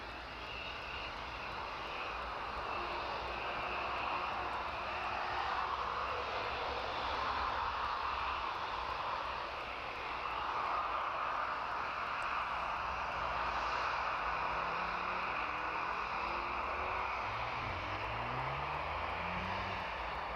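An airliner taxiing at East Midlands Airport in the evening, a steady distant engine drone with a low rumble that holds for about twenty seconds, fairly faint and with no voices.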